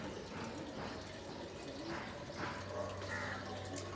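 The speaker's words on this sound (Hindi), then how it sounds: "पानी अभी स्लो इसके लिए आ रहा है" Water flowing slowly at a Guru Nanak Dev Ji shrine in Nepal, a soft continuous trickle and wash with faint background voices and ambience, fairly even and low in level.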